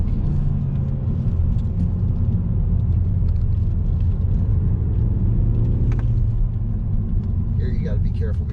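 Steady low rumble of a 2021 Mazda 3 Turbo hatchback slowing under braking into a tight canyon corner, engine note dropping, with a driver talking throughout.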